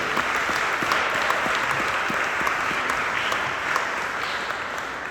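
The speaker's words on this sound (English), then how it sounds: "let's give a round of applause to the poets who read" Audience applause for poets at a poetry reading, a steady wash of many hands clapping at moderate volume, holding evenly for about five seconds and easing slightly at the end.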